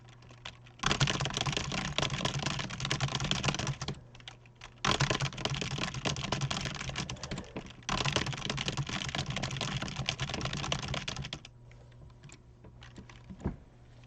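Rapid typing on a QWERTY computer keyboard during a speed test, three dense bursts of fast clattering keystrokes separated by short pauses, close and alone with no talk.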